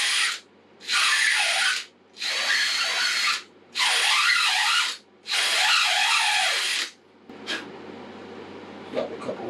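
A power drill spins a reamer to bore out a fishing rod grip, whining loudly in four long bursts with short pauses between them, then quieter rattling and handling after the last run.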